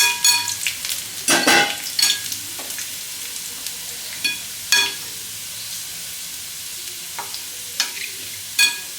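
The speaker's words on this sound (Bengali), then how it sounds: "তেলে চিজ বলগুলো একসঙ্গে আমি দিয়ে দিচ্ছি" Cheese potato balls deep-frying together in hot oil, with sporadic sharp crackles and pops breaking out over a low, quiet bubbling.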